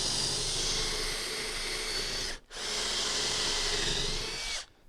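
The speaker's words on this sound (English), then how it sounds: "So basically you just drill the end of the head off" A drill bit slightly larger than a nail head bores off the head of a nail while removing a sliding patio door, running as a loud, steady whine that briefly stops midway, then resumes before cutting out.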